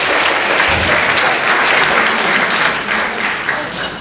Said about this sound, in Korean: 여러분들이 이 용서를 받는 의미로 크게 박수 한번 쳐주시면